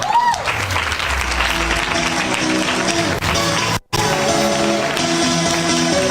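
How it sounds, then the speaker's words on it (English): Loud, sustained applause from a large crowd, dense clapping filling the whole stretch with a brief gap near the end, music faintly underneath. "Give them a big round of applause."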